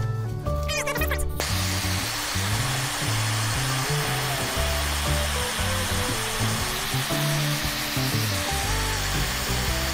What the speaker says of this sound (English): And a slight scorching.